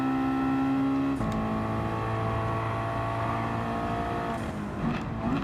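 A Honda Civic EK touring car races in Gran Turismo 7, its engine holding a steady high-pitched drone with a gear change near the start and rising revs near the end.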